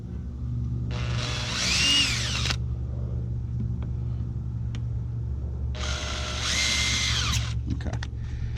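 Two bursts of a power drill whirring as it bores into plastic while installing a port plug, with a steady low mechanical hum running underneath throughout.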